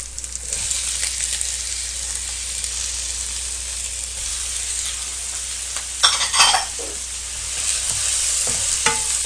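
Squid and vegetables stir-fried for spicy Korean seafood ramen (ojingeo jjamppong) for five, with a steady loud sizzle and scraping stirring strokes throughout, plus a few sharper clatters of utensil against pan.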